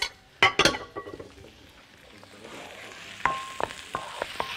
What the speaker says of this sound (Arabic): احط كده الفراخ، عايزه حتى ادفيها كده بس عشان الوقت